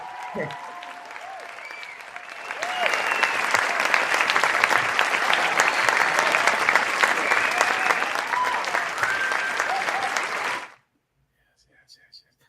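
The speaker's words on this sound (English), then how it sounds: "Round of applause for all the fathers out there." An audience claps for fathers: a short lead-in of voices and tones, then loud, dense applause from a crowd swells and holds for about eight seconds before stopping abruptly, leaving near silence.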